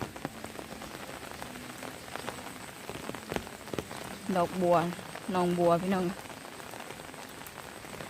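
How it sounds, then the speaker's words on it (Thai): Heavy rain falling hard in a rural Thai setting, a dense, steady hiss of drops hitting surfaces throughout, with a person speaking briefly over it. "ฝนตกฝนดินเนี่ยโอ้ยลำบากหลาย"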